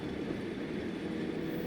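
Chennai Beach–Chengalpattu fast AC EMU train running, a steady low rumble and hiss of wheels and air heard from inside the coach, fairly quiet and even throughout.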